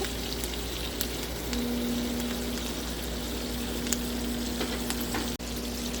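Steaks sear in a pan with a bundle of thyme and rosemary and a couple of garlic cloves, giving a steady, even sizzle close by with faint ticks and crackles and no voices.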